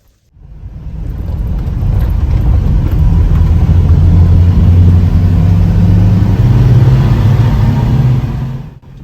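A Suzuki Carry 4x4 mini truck drives along, its engine rumble and road noise loud, close and steady from start to finish.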